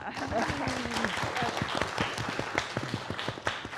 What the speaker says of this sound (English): an applause for Rosa